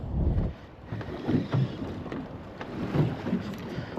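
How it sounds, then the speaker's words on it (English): Strong wind blasts across an open bay while fishing from a boat, a loud, gusty rush buffeting the microphone with rising and falling surges and faint water sounds underneath. "Wind just blasting straight across the bay."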